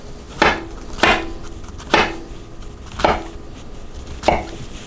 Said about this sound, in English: Let me finish cutting up my mushroom here.